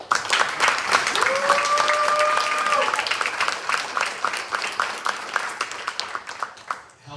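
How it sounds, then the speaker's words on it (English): Audience applauding at a community event on housing for young adults leaving foster care, a dense sustained round of clapping that gradually thins and fades, with a voice speaking over it early on. "Clap it up for Robert."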